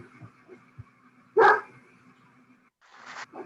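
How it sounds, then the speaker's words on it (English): A dog gives one sharp bark and then a shorter second bark behind a quiet, static-laced line during an online meeting. "I've got a dog barking"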